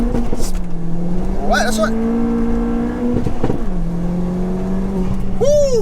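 A big-turbo Ford Fiesta ST launches hard with wheelspin, its engine droning loudly at close range and stepping through rising pitches as it accelerates, with voices talking over the engine noise.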